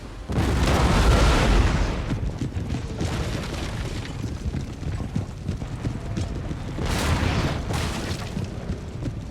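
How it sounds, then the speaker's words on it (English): Lines of cannons firing during a battle in the strategy game Empire Total War, with heavy booming blasts and rumbling volleys layered over continuous battlefield din, loudest at the start and again near the end. "Cannons firing from all along the line."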